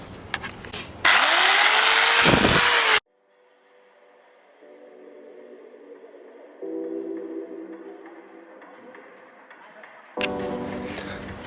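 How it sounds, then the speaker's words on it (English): A jigsaw cuts through the wooden nose of an alaia surfboard in a loud, dense burst of about two seconds, then a quieter tonal mechanical hum follows and steps up in level, before another loud burst at the end. "I'm just going to cut the nose here with the jigsaw quickly."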